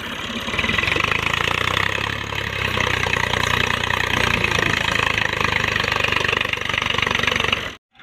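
A tractor engine runs steadily nearby in a village setting, a loud rough chugging drone that holds for several seconds and then cuts off abruptly.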